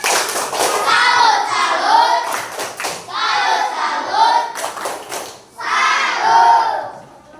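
A school class performs the tepuk salut clapping routine, with children chanting in unison over rhythmic bursts of group claps that come in three loud phrases separated by short pauses.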